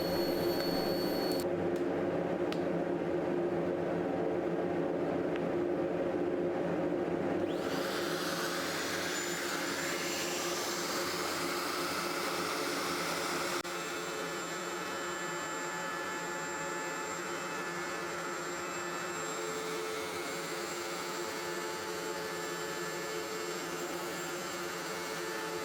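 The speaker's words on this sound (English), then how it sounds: "The final step was to put a roundover bit in the router and then take the sharp edge" A router with a roundover bit easing the sharp edges of walnut panels gives a steady, loud, continuous whine and roar at close range, shifting in tone partway through, with no talking.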